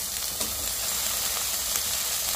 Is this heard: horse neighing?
no